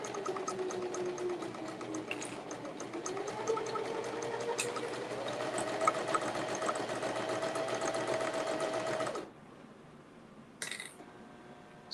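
A sewing machine runs smoothly and steadily for about nine seconds, with a soft rising whir, then stops abruptly, leaving near silence and a brief faint clatter.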